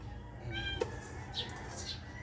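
A cat meows a few times, short and moderately close, against a low room background with faint voices.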